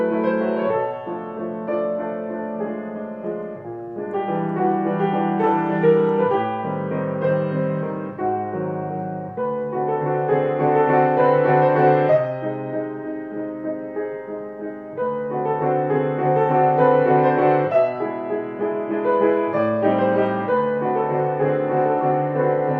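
A piano plays a two-against-three polyrhythm exercise ahead of Debussy's Arabesque No. 1, with steady overlapping notes in moderate phrases, close and clear, no voices.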